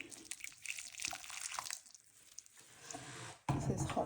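Hot water pours and splashes onto a dry coir block in a tray, a trickling, dripping stream with a louder gushing burst near the end; no talk over it.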